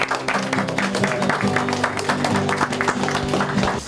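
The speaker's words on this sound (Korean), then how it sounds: "박수." Church congregation applauding at a military chapel service, steady dense clapping from many hands for several seconds, with a faint murmur of voices beneath.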